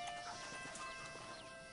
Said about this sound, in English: My brother has given us his stagecoach.